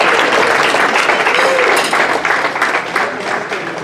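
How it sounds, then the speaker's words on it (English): Awards-event audience applauding in a room, a full burst of clapping that is strongest at first and then slowly thins out. "So let's give Tiffany a round of applause."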